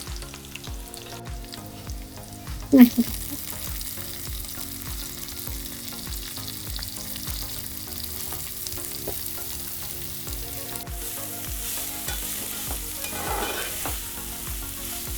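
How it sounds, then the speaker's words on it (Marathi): Onion and chili frying and being stirred in a pan with garlic, a continuous soft sizzle with repeated scraping and stirring strokes and one sharper clatter near the start, no talking. "लसूण लालसर होत आला की आपण कांदा आणि मिरची टाकूया."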